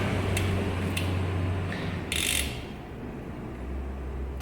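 A bicycle chain being fitted around a rear sprocket and driver makes faint mechanical clicking and ratcheting, with a few brief metallic ticks and a short rattle midway.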